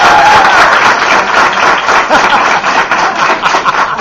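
Loud, dense applause from a crowd at a 2012 beauty academy graduation ceremony, many hands clapping continuously and close, with faint crowd murmur mixed in.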